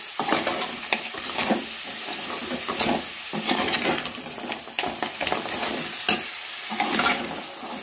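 Crab coated with ginger-garlic paste frying in a pan for a coastal-style crab sukka, heard as a steady close sizzle with repeated scraping stir strokes and light clinks of utensil on pan.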